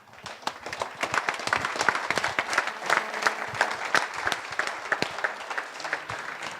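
Applause from an audience at a professional event, a lively crackle of many hands with distinct sharp claps standing out, loud and sustained, with no talk over it.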